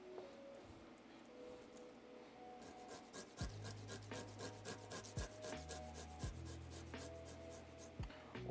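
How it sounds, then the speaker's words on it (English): Unpeeled garlic is rubbed across a microplane grater in a run of close, scratchy rasping strokes, with a low steady hum running beneath and no one talking. "Oh, that is my knuckle getting grated into garlic."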